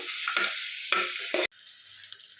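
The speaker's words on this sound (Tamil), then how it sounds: "மட்டன் இதில் போட்டு நல்லா வதக்கிக்கலாம்" Mutton sautéing in oil with masala makes a loud, close sizzle, broken into bursts by spoon strokes, then cuts abruptly to a softer, quieter frying hiss with no speech.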